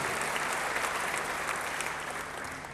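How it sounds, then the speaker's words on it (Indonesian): A congregation at a church service claps together in a steady, full round of applause that fades slightly toward the end, with no talking over it. "Beri tepuk tangan bagi dia"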